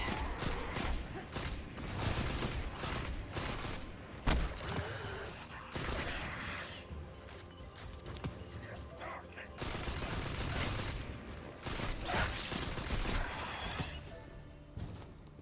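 Hand cannon fire against Fallen enemies in Destiny, clusters of sharp gunshots with shattering impacts repeating through a busy combat mix, fairly quiet overall, with occasional talk.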